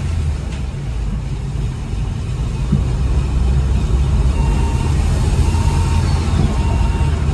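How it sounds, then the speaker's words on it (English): Steady engine drone from inside a moving Vauxhall/Opel Corsa VXR, with a faint rising turbo whine from a boost leak above the rumble that carries on throughout; no talking. "Hear that turbo spool,"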